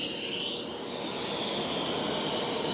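Bissell FlexClean vacuum running at its middle power setting, a steady whooshing motor roar with a thin high whine on top, constant and moderately loud, swelling slightly toward the end.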